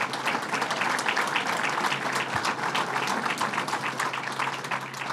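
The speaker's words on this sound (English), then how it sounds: "Let's give them a round of applause." Sustained applause from an audience honoring state legislators at a gang-violence announcement in Albany, dense steady clapping filling the whole stretch at even loudness with no talk over it.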